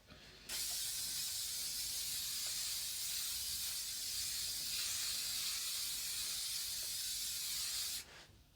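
Hairspray sprays in one continuous hiss lasting about seven and a half seconds, close and steady, starting and stopping abruptly.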